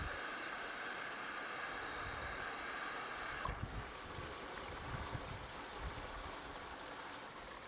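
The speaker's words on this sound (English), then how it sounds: "it'll start putting water back into the tank and it will shoot out the top" Pool cartridge filter tank being refilled by its pump, water rushing and spraying out the top in a steady broadband hiss, close and continuous, with a shift in tone midway and no talking.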